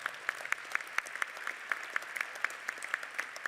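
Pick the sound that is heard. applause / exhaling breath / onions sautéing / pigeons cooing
applause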